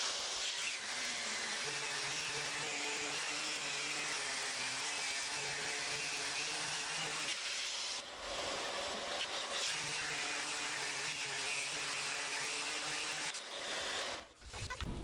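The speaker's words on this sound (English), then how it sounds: "come back and hit it with 320 on the power sander" A power sander whirs continuously against birdseye maple with 320 grit paper, a bright hissing drone that briefly drops out around the middle and again near the end before resuming.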